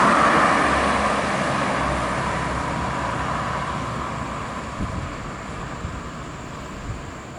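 A large intercity bus rumbles past nearby in Indonesia, its engine roar loud at first and gradually fading as it drives away along the road.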